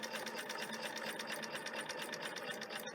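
Steady, fast mechanical chatter of a sewing machine stitching fabric, continuous and close at an even rhythm throughout.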